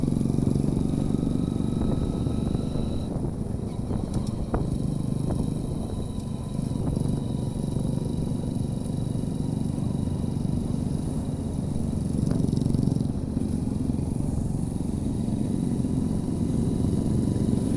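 A Splendor and an RS 200 motorcycle running during a drag race ride in the Bagru Hills, their engines giving a steady, loud, droning rumble that continues without a break.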